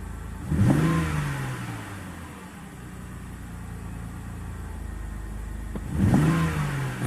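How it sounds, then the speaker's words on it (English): A BMW engine idles, then revs sharply twice with a few seconds between, each rev rising briefly with a rough, uneven stutter before dropping back. "When I tap the gas, there's a stutter when it jumps off."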